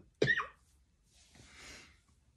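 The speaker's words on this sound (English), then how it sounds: "I'm gonna cough." A person gives a single short, sharp cough at close range, followed by a soft breathy exhale, in an otherwise quiet indoor setting.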